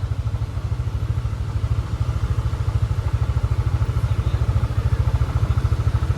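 Motorbikes putter along narrow Poppies Lane in Kuta, Bali, with a steady, rhythmic low engine chug close by and faint street noise behind, with no talk.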